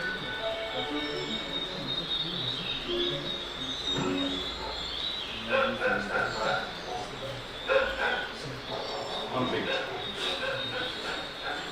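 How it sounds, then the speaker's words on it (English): Free-roaming dogs barking outdoors near a human settlement, several scattered barks and yips at moderate distance, with a narrator talking over them. "Free-roaming dogs, one of the biggest threats to wildlife close to human settlements."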